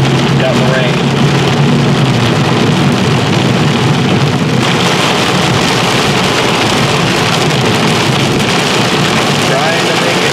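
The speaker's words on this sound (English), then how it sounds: "got the rain" Heavy rain drums steadily on a car during a tornado-warned storm chase in Ohio, a loud dense wash that fills the whole stretch without pause.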